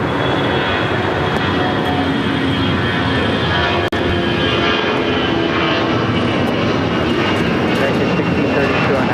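Airliner engines roar loudly and continuously on a runway at LAX, a heavy steady rumble with a brief click partway through, while air traffic radio voices talk over it.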